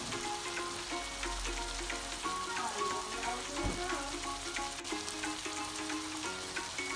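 Onion, garlic, tomato and spices frying in a pan, a steady crackling sizzle running throughout with soft stirring scrapes, while quiet background music plays beneath.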